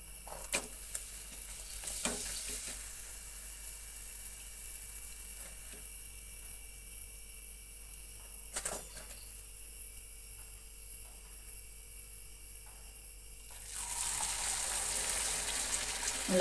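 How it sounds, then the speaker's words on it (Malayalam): Puris deep-frying in hot oil, a soft, steady bubbling sizzle at close range with a few faint clicks of a utensil, growing louder and hissier near the end. "ഉള്ള ഭൂരികളൊക്കെ നമുക്ക് ഇങ്ങനെ പൊരിച്ചെടുക്കാം."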